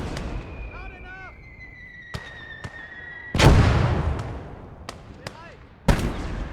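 Artillery in a World War II eastern front strategy game fires sharp booming shots, including a large blast and a later loud report, among smaller distant cracks and a whistling tone, with voices in the background.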